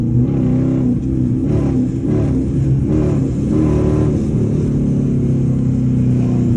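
A loud, raspy straight-piped Dodge Charger R/T exhaust revs repeatedly in close range, deep rumbling bursts rising and falling over a steady idle.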